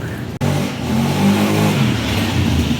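A Honda Beat FI V2 scooter engine, fitted with a new clutch bell and clutch lining, revs up close and loud after a brief cut, holding a rough, throbbing roar that climbs and stays high.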